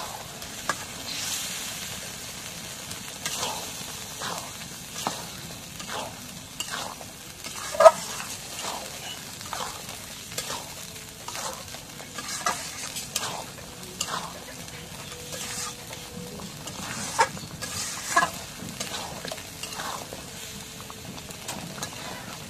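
Beef trimmings with spices are stirred in a hot pan, with rhythmic scraping strokes about once a second over a low, steady sizzle, and an occasional louder clack of the spoon.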